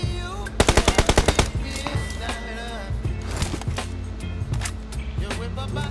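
Rapid bursts of automatic gunfire in a PUBG-style battle royale match on the Livik map, loud and close, with a fast volley near the start. Scattered shots follow, along with in-game engine and movement noise.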